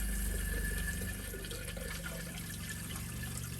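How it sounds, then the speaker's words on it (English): An RV toilet with seal conditioner in the bowl flushes in a steady, close rush of water that settles into a softer running trickle as it refills. "So we're going to turn that on, flush it."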